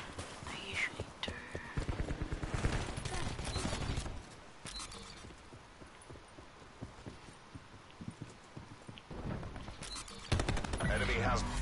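Gunfire in the Black Ops 4 multiplayer shooter, with bursts of rapid shots over busy game noise, louder near the start and again toward the end.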